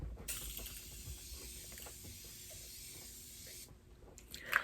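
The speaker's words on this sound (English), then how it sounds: "take my setting spray. I love this setting spray by Morphe because it's continuous. And I spray my whole face." A continuous Morphe setting spray mist hisses steadily onto a face for about three seconds, close and fairly loud, then stops, followed by a soft click.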